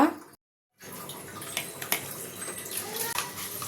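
Dishes washed under running tap water in a home kitchen, a steady rush of water with clinks of utensils after a brief gap, no voices.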